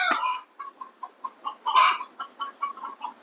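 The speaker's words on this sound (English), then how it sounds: "Can you hear the chickens and their egg song?" Backyard hens cackle their egg song, a rhythmic run of about a dozen sharp, close clucks at a steady pace, with one louder squawk in the middle and no talking.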